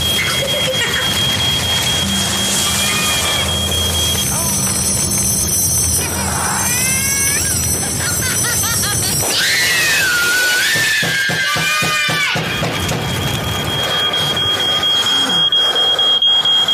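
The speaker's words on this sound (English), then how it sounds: "When your smoke alarm goes off, make sure you know what to do." A smoke alarm shrills loudly in a room, its high piercing tone sounding through a stretch of frantic, muffled commotion and cries.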